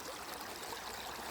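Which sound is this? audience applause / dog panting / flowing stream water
flowing stream water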